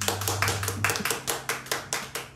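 Clapping at a business talk, a brisk run of rhythmic hand claps, roughly six per second at first, then slowing to a steady beat, close and clear with a low hum underneath.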